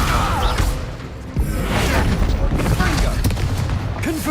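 An Incendio fire spell cast in Hogwarts Legacy gives a loud fiery whoosh and booming burst, followed by crackling impacts and continued rumbling combat effects.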